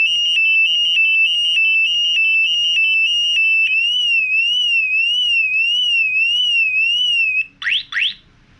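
A bicycle alarm sounds loudly and continuously, first a steady high-pitched tone and then a warbling siren-like tone, before cutting out in a few short chirps as it is silenced.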